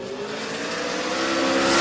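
Drag racing car at Willowbank Raceway with a slipping torque converter, a loud sustained high-revving engine roar that builds steadily in volume as the run goes on.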